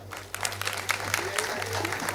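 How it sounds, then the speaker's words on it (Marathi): Scattered audience clapping at a music concert, an AAROH 2024 musical gathering, sharp claps rising over a low hum with a voice talking alongside. "एकदा जोरदार टाळ्या होऊन जाऊ द्या"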